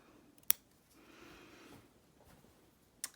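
Scissors snipping through a crochet doily, two sharp isolated cuts about two and a half seconds apart, quiet and close, with soft handling rustle between them and no talking.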